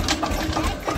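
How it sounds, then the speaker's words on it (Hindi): A tractor engine putters with a steady mechanical rattle and pulsing idle, loud and close, on a farm. "ले भाई तीसरा ट्रैक्टर और आ गया"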